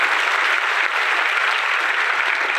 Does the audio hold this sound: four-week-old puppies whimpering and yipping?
no